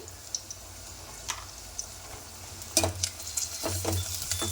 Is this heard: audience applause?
no